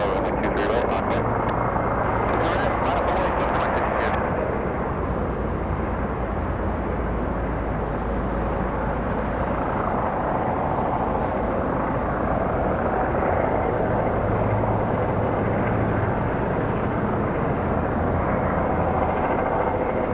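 Jet airliner taking off from runway 23 right at Raleigh-Durham International Airport, a loud continuous engine roar filling the whole stretch with steady rumble, while a voice talks over it intermittently.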